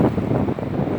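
Blizzard wind gusts hard across an outdoor microphone during a snowstorm, a loud rough roar with buffeting rumble and no pauses over one second.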